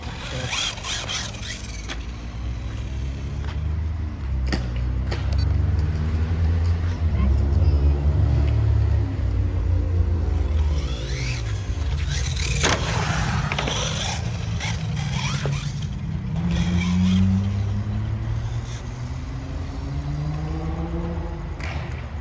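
An HPI Jumpshot SC radio-controlled short course truck drives around a skate park. Its electric motor whines and rises and falls in pitch as it speeds up and slows down, with wheel scrub and rattles underneath and people talking over it.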